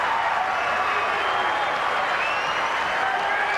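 A tennis crowd at the 2003 Masters Cup applauds in a steady, dense wash of clapping that holds evenly throughout, with no break or voice over it.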